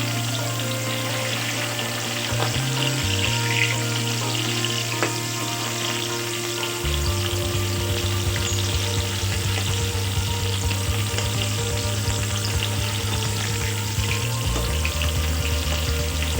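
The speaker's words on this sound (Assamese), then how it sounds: "হাই ফ্লেমত লৰাই লৰাই ফ্ৰাই কৰি ল'ব।" Sweetcorn kernels fry on a high flame while being stirred, giving a steady close sizzle with a constant low hum underneath and no voices.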